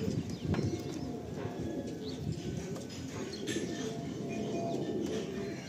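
Madrasi pigeons coo softly inside a loft, their low murmuring steady and close amid light shuffling and scattered clatter.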